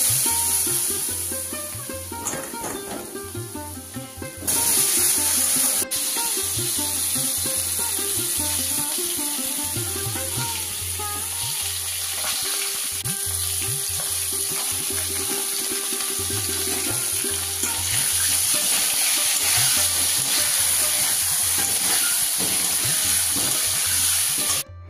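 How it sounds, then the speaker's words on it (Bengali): Potatoes for a meat curry fry in a pan with a steady, bright sizzle that runs throughout, close and loud, alongside some watery clatter and tonal background music. "আর এই যে মাংসের আলুটা এবার ভেজে নেব।"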